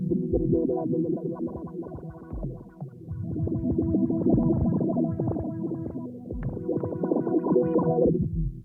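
Heavily processed, distorted tone with a stereo filter effect on an OP-XY, sweeping back and forth, swelling and receding continuously, loud and dense throughout.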